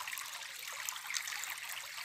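A small creek on a rural property in Salgado, Sergipe, trickling and babbling steadily at close range, a soft continuous bright splashing with no voices.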